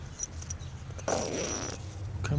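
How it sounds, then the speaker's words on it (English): A zipper on a Kni-Co 12 by 12 by 18 canvas tent with a hammock set up inside, drawn in one steady pull of about a second, close and moderately loud over a low background hum. "It's got 3 zippers in it."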